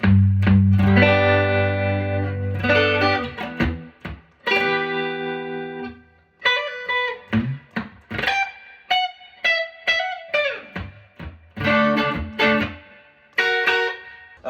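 An electric guitar plays an intro through effects: low sustained chords open, then choppy, rhythmic strummed chords and single notes ring out with distortion.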